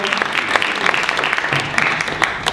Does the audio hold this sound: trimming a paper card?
no